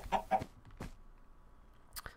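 Chickens clucking in a Minecraft-style video game world, a few short close clucks in quick succession, then a pause and one more cluck near the end.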